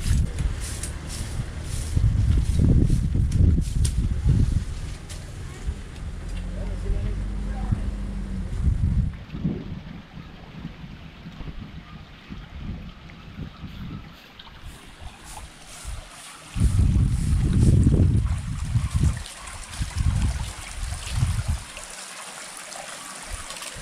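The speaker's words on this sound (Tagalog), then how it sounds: "dito dumadaan yung malakas na agos" Strong water current rushing past the front of a house in the countryside after monsoon rains, a broad continuous flowing roar that swells in louder bursts, with wind and occasional voices in the background.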